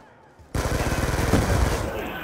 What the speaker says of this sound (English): I'm shooting people.